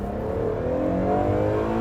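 A 2022 Acura NSX Type S engine in track mode revs up with a loud, steady rising drone, the engine note climbing smoothly throughout without any talking.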